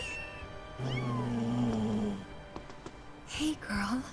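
A cat meows in Final Fantasy VII Rebirth. Two drawn-out mews come close and clear, and a few shorter high cries follow near the end.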